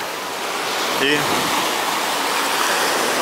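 Calm sea waves wash steadily at Alanya beach in Turkey, a broad, even hiss close by, with a short spoken word briefly over it.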